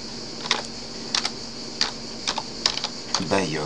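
Short bursts of keystrokes tapping on a computer keyboard, close and crisp, with brief pauses between clusters of taps.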